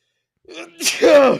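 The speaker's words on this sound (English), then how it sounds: "I gotta sneeze." A single sharp sneeze, close and loud, preceded by a brief indrawn breath.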